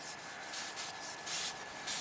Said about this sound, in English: Seems rather difficult with the sanding pad.